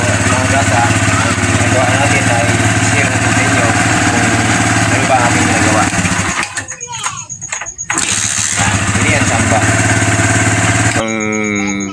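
A Kawasaki Barako motorcycle engine runs loud and close, with a steady, rough drone. It dips briefly near the middle, roars back, then cuts off near the end.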